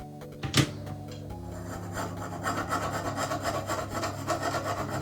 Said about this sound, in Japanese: ちょっと頭の部分が平らじゃないんで、これはヤスリで直してみましょ